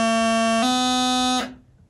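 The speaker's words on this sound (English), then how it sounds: "If you're playing three notes in a row, they should sound like this." A bagpipe practice chanter plays three continuous notes, a reedy, buzzing sustained tone that steps up in pitch twice without any break, loud and close, then cuts off.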